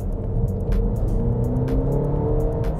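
Engine of a 2024 Cadillac XT4 revving up, a steady close-range motor hum that rises and holds loud throughout, with no talk over it.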